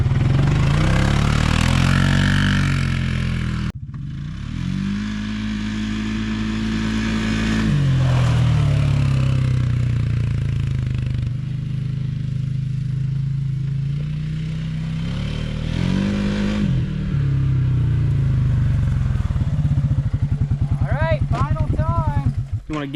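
A Can-Am Outlander ATV engine is gunned hard from a standstill, its loud, close drone climbing and dropping in pitch through repeated surges before a final sharp rev.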